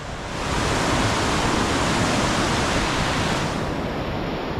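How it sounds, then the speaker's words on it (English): A mighty river rushes where a second river joins it in a winter valley, a loud, steady broadband roar of churning water that stays constant throughout. "Sounds like we've got another river joining it over here"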